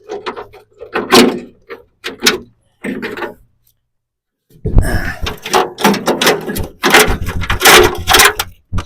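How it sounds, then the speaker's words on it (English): A 1967 Lincoln's left rear car door clunks and scrapes as it is handled and lifted away, with bursts of metallic knocks and rattles separated by short pauses. "All right, and the old door is removed."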